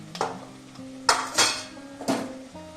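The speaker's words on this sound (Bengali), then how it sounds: "মশলাটা আমি ভালো করে ভেজে নিয়েছি" Spice masala of coriander, chilli and cumin powders frying in a pan, heard mostly as a few sharp metal clanks and scrapes of a spoon against the pan over a faint sizzle.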